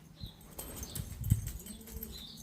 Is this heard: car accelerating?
no